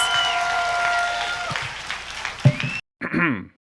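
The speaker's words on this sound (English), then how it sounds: "Let's give a round of applause." Audience applause at a convention Q&A session, a loud, dense spread of clapping filling most of the clip before a brief drop-out and a short final burst; voices are mixed in underneath.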